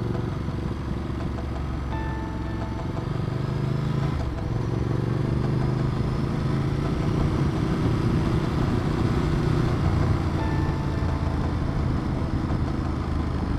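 A Ducati Multistrada 1200 motorcycle rides along Finlayson Arm Road, its engine a steady close rumble mixed with wind roar, rising slightly in intensity over the run.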